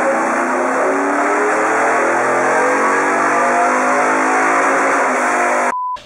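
Yamaha YXZ side-by-side engine held at a sustained high-rpm wail on a Mustang dyno pull, loud and steady with no speech, then cutting off abruptly near the end.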